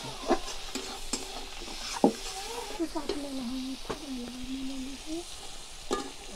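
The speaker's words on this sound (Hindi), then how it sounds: "मसाले को डाल दिए, टमाटर डाल रही है, इसको हल्दी को अच्छे से भून लेगी।" Tomatoes, turmeric and spices frying in a pan for a tadka in a village kitchen, with a steady soft sizzle, scattered spoon scrapes and stirring knocks, and faint voices in the background.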